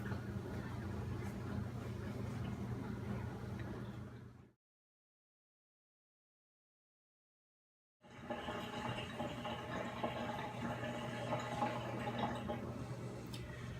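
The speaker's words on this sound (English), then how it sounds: "you can hear the dishwasher in the background" A dishwasher runs with a steady low mechanical hum, watery sloshing and dripping continuously, broken by a few seconds of complete silence midway.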